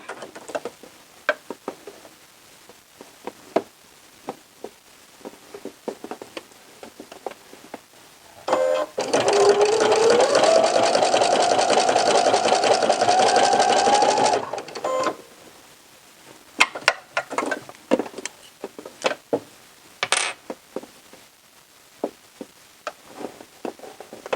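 A sewing machine stitching through bulky sweater fabric, one steady whirring run of about six seconds in the middle, close and loud, with quiet tapping and handling noise before and after.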